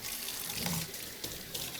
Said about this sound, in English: I'm going to wash it with hot water.